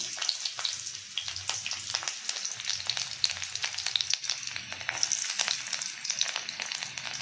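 Dried red chillies and garlic frying in hot mustard oil crackle and sizzle in a pan, a dense, continuous spatter of pops close by with no talking.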